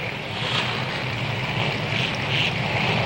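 Sportsman race car engines firing up on a half-mile track in 1985, a dense, loud droning roar of several motors that stays steady over three seconds.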